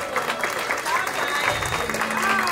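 Applause from guests at a quinceañera as the father is called forward, a busy clatter of clapping mixed with background music and some voices in the hall.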